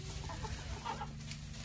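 Backyard hens and chicks, including Araucana and Ameraucana-cross chicks, give soft, low clucks that run steadily through the brief stretch with no talk.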